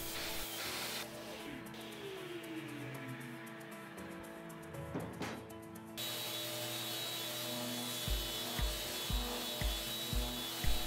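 A power saw cuts solid wood for a handmade bed, the blade whining steadily for several seconds before spinning down, followed by a series of short rhythmic mechanical clicks near the end.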